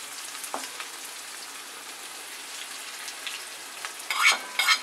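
Finely chopped onion fries in hot oil with curry leaves and asafoetida, a steady close sizzle with a couple of brief stirring scrapes toward the end, no voices.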